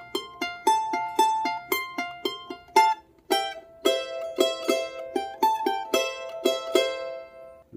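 Charango plucking a repeated melodic phrase from Virgenes del Sol, crisp bright note attacks in a steady rhythm, played alone and fairly close with no talking.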